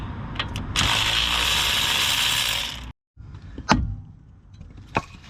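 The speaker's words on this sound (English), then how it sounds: "Grab my wrench." A wrench loosens the outer tie rod nut on a Fiat Panda 4x4. A long, loud run of ratcheting clicks stops abruptly, then a few sharp metallic knocks follow, close up.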